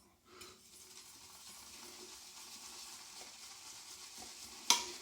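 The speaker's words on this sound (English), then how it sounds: "Give it a squidge round in the shaving bowl." Shaving brush swirling soap in a Turkish shaving bowl, a soft continuous wet lathering swish, close and quiet, ending in a brief sharp clink.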